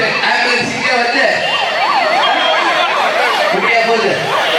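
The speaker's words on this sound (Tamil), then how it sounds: "அதே மாதிரி இங்க இருக்கிற நெல்லூர் ஆம்புலன்ஸ் இங்க வந்து" An ambulance siren wails in a steady rising-and-falling pattern as it passes along a street in Nellore area of Gudiyattam, loud and continuous over crowd noise at a campaign gathering.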